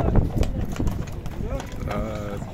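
Horse hooves clip-clop in a loose rhythm on hard ground at a horse market in Bishkek, partly under people talking nearby.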